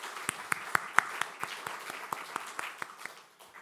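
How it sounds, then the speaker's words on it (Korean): A church congregation claps to encourage middle and high school students, a modest, fairly sparse round of applause with a few distinct sharp claps standing out, tapering off. "오늘 함께한 우리 중고등부 학생들을 위해서 박수로 격려해 주시면 감사하겠습니다."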